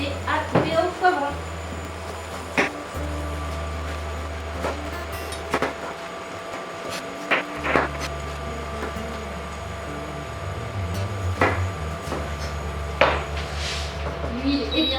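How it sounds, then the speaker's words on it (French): A knife chops bell peppers on a cutting board in a home kitchen, giving scattered sharp taps and clacks spread across the stretch, with a hum and background kitchen noise underneath. "on va commencer à couper nos poivrons"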